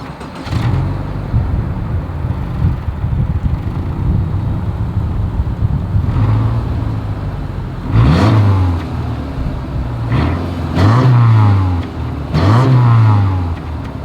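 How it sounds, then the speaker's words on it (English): A 2023 Subaru Forester idles with a low, steady exhaust rumble, then is revved three times in quick succession, each rev rising sharply and falling back, heard close and loud without speech. "As always, here is that exhaust clip."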